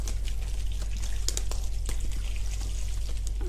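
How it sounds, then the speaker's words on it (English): Water from a basic jug being poured into the water bag of a hand-tied flower bouquet, a steady close splashing pour running throughout over a low constant hum. "just fill that with water. So just a jug of water, basic jug of water."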